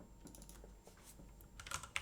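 Quiet computer keyboard typing, a scatter of light key clicks that quicken into a small burst of louder taps near the end, with no voices.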